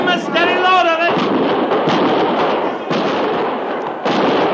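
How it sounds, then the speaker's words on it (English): Gunfire as soldiers fire on a camp in the radio western Fort Laramie: a dense, loud volley of shots crackling and thumping over a few seconds, with a voice speaking over the shooting. "They're firing the camp"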